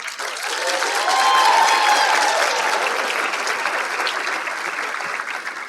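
A crowd at a student speaker event gives a round of applause, steady and close, building briefly before tapering slightly over several seconds.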